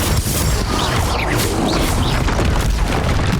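A Confringo blast spell explodes in Hogwarts Legacy: a loud, dense, roaring burst of noise with heavy low rumble and crashing debris texture that carries on throughout, close and overwhelming.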